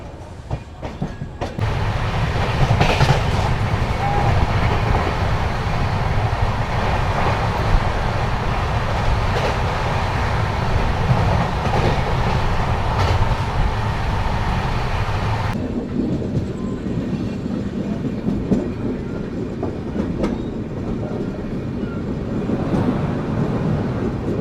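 Jogbani Express train in sleeper class, a steady loud rumble with a rhythmic clickety-clack of wheels over rail joints, continuous throughout, with the tone shifting partway as the carriage noise changes.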